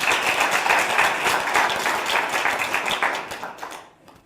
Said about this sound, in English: I think you can give a big clap for that